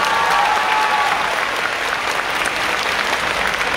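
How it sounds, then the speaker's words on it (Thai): A large crowd at a Khon Kaen student protest rally claps loudly and continuously, a dense, even roar of applause with no speech over it. "ขอเสียงปรบมืออีกหนึ่งครั้ง"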